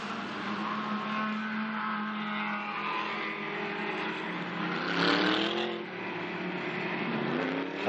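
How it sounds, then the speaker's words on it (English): Safety car leading a pack of GT race cars past the timing line at the Zhejiang circuit during a Blancpain GT Series Asia race, a continuous loud engine roar that swells with a passing sweep midway. "over the timing line comes the safety car, and everybody behind busily weaving around"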